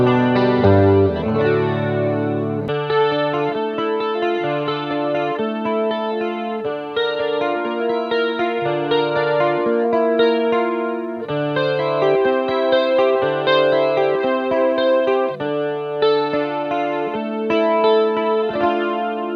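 The 12-string neck of a double-neck electric guitar plays shimmering chords through chorus and distortion effects, strummed in a steady rhythmic pattern with ringing, layered tones, loud and close with no talking.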